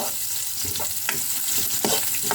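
Violet onion sizzles and crackles in a hot pan as it is sautéed, with occasional stirring scrapes over a steady frying hiss.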